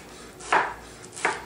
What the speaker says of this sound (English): I take my Brussels sprout, cut it in half, lay it flat, and then I simply cut it very thinly